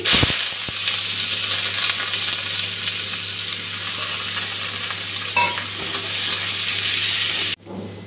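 Chopped onion and green chilli fry in hot oil for a magur catfish and bottle gourd dish, a loud, continuous sizzle with stirring scrapes that stops abruptly near the end.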